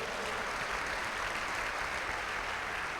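Steady, dense applause from a church congregation during a family worship service, a continuous even wash of many hands clapping with no pauses, fairly soft and distant throughout.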